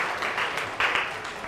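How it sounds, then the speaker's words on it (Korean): Lecture-hall audience at a Korea University quantum mechanics and telecommunications lecture applauding, a dense, steady patter of many hands clapping for a brief moment, moderately distant and fairly soft. "제가 박수라도 쳐주시죠, 여러분."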